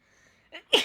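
A person sneezes once in a short sharp burst near the end, preceded by a faint catch of breath, during a casual drawing stream.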